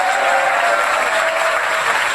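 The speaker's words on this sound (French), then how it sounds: "Applaudissez les musiciens et les choristes." A television studio audience at a music performance applauds the musicians and backing singers, a loud, steady burst of many hands clapping at once, with no voices standing out.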